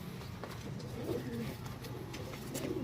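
Low, soft pigeon cooing repeats under a murmur of background noise, close and fairly steady across the short stretch.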